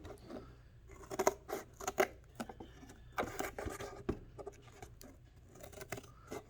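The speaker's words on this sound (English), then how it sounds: "Okay, and those lines I'm going to cut out with the scissors." Scissors snip through cardboard, cutting out box shapes: a close series of crisp, irregular crunching cuts with short pauses and some rustling of the material between them, and no talking.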